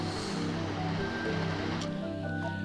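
Rushing water in the Swamp Palace dungeon of the video game Zelda: A Link Between Worlds, a steady, dense wash of flowing water that continues unbroken throughout, with no voices over it.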